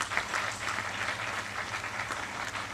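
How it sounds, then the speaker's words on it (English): Steady audience clapping at a university Women's Day celebration on stage, a dense, even patter of many hands sustained throughout at moderate volume with no talk over it. "A clap to all of them, please."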